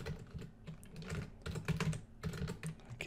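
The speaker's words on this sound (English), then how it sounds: "okay, if I could type" Fingers type on a computer keyboard in quick, uneven bursts of close key clicks, with short pauses between runs and no voices.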